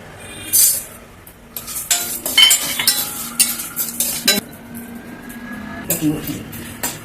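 Urad dal and dried red chillies roasting in coconut oil in a pan make close, clattering stirring strokes with a light sizzle, loud at first and then settling, while a person talks over part of it.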